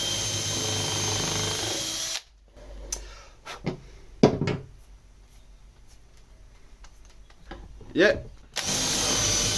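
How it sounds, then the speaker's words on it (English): Power drill boring down into wood through a Wolfcraft Dowelmaster dowelling jig, a loud whining run with bursts and a bogging stall near the end, with a brief spoken word. "First he's going to drill down."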